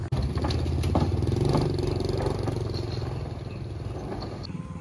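A motorbike engine rumbles across a badly damaged, bouncing bridge in Laos, a steady mid-pitched drone with rattling clatter and occasional knocks, fairly close and constant throughout.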